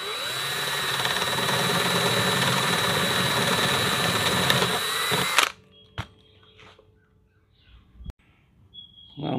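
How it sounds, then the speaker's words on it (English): Power drill boring a 3/8-inch hole into a cigar box guitar body, a loud steady whine lasting several seconds that stops abruptly, followed by quiet clicks and handling noises. "I'm going to drill a hole right in the middle of that"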